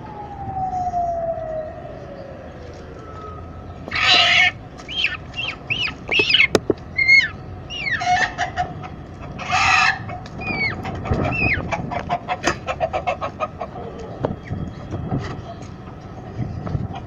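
A rooster calls with a string of sharp clucks and short crowing bursts, close by, with scattered clanks and faint background noise between calls.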